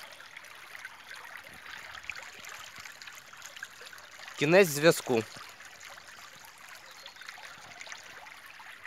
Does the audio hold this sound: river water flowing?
yes